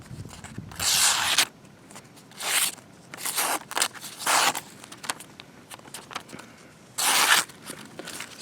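A Kershaw Emerson CQC-4KXL knife slices through thin phone book paper in several separate bursts, each a crisp, rasping swipe with quiet pauses between strokes.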